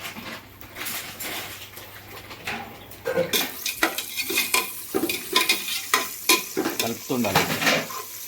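Shir khurma ingredients being stirred in a pan, a spoon scraping and clinking against metal in repeated strokes over a soft sizzle, close and alone.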